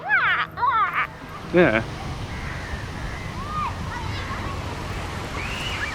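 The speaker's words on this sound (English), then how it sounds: "there's just crows, the only inhabitants, Yeah. flying around cawing at you." Crows caw in a desolate abandoned city by the beach, with several loud, close calls in quick bursts at the start and fainter cries after. Waves wash steadily behind them, and someone briefly speaks.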